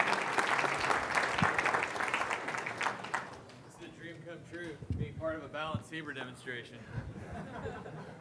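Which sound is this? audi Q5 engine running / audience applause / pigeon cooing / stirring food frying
audience applause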